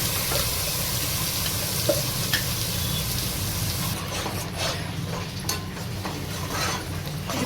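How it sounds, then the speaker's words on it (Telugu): Onion paste frying in oil for a spinach curry, a steady close sizzle running throughout with occasional stirring scrapes and small pops, no voices. "ఇప్పుడు ఆనియన్ పేస్ట్ వేసుకోవాలి ఇది మొత్తము ఆయిల్లో ఉడికించుకోవాలి నూనె పైనకి వెళ్ళే వరకు ఉడికించుకోవాలి"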